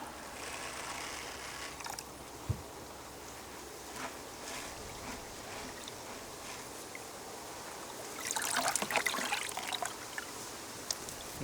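Water swishes and trickles steadily while sushi rice is rinsed by hand, soft and close, swelling into a louder splashing pour near the end.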